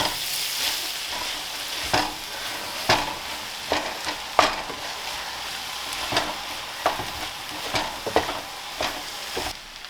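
Cooked rice stir-fried and mixed in a hot pan for pineapple fried rice, with a steady sizzle broken by repeated scraping and tossing strokes at an uneven pace.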